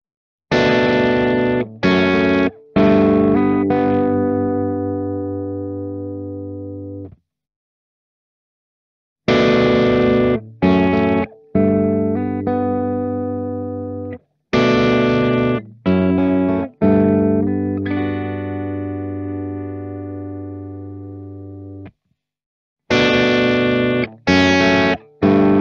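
Electric guitar through an Origin Effects DCX Boost overdrive pedal with the treble raised, playing bright, crunchy strummed chords and short phrases that ring out between brief pauses, loud and close with no voice.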